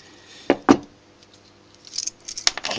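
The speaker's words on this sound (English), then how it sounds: "Cut these wires." Cutters snip wires inside a dismantled 25A RCD: two sharp close clicks, then a scatter of small metallic clinks and rattles as parts shift, with no talking.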